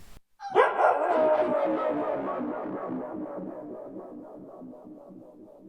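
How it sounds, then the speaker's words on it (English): A synthetic alien-like warbling howl with delay and reverb, entering abruptly and then smearing into a long, pulsing, wavering tail that slowly fades over several seconds with no voices. "add some kind of a warbling effect to the different parameters"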